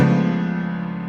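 A single sustained piano chord from a song rings out, struck once and left to decay slowly and evenly, loud and close with no voices.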